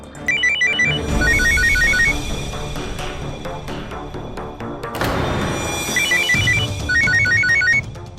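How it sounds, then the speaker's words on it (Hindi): A phone rings from inside a freezer in a restaurant kitchen, its repeated electronic ringtone chiming in two bursts with a steady pause between them over a busy kitchen background. "मेरे को लगता है कि फोन फ्रीजर में बज रहे हैं।"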